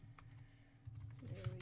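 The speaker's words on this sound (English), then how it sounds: "So I'm typing my email right now." Quick, light computer keyboard keystrokes as an email address is typed in at a Minecraft login screen, a short irregular run of clicks that are close but quiet.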